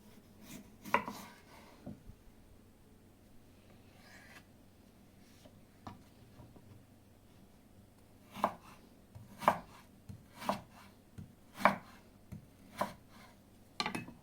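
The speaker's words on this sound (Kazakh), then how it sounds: "Алдымен бірінші картошкаларымызды алып, ұзынша соломка етіп, жақсылап турап шығамыз барлығын" Potatoes being cut with a knife into long strips for oven fries: a few isolated chops at first, then a run of six evenly spaced, crisp knife strikes on a board, close by with no talk.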